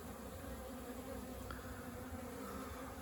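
Honeybees flying in numbers at a hive in Turkey's Black Sea region during a young-bee orientation flight, a continuous faint buzzing hum with no break and no voices.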